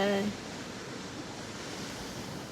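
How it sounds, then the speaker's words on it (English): Sea waves pounding the shore at Blackpool on a wet October day, heard as a steady, loud broadband roar of surf with wind, briefly overlapped by a voice at the start. "Can you hear the sea? Can you hear the waves? They're doing that pounding thing."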